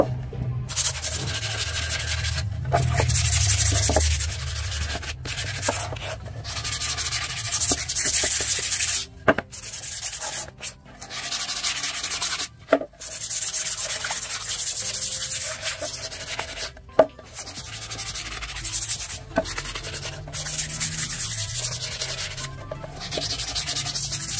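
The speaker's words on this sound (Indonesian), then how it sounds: "Kemudian kita amplas untuk membersihkan sisa-sisa pada bagian potongannya supaya lebih rapi" Steady rhythmic sanding strokes rasp back and forth over the cut edges of a basket for a long stretch, close by, with occasional small knocks and pauses.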